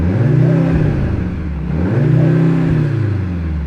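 A Mercedes-AMG C63 engine revs twice in close succession, each rise a loud droning whir overlaid by artificial electronic sound piped through the car's speakers, with no speech.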